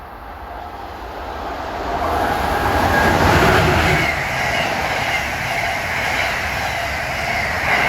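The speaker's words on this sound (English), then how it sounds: "here comes 174 from Newport News to Boston at 1238" Amtrak train 174, bound from Newport News to Boston, passes through a station with four tracks: a loud, steady roar of wheels and cars that swells and holds for several seconds with faint clatter.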